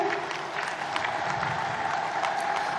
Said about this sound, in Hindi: जोरदार करताली हो